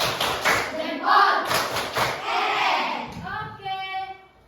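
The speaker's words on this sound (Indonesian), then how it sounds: "Beri tepuk jempol untuk kita." A class doing a thumb clap chant in a math lesson, voices calling out together over rhythmic claps and thuds, loud and close, ending with a sung tonal phrase.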